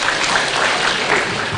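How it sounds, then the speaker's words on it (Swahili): A crowd claps in steady, dense applause at an outdoor political rally, loud and continuous with no talk over it. "Mpigieni makofi."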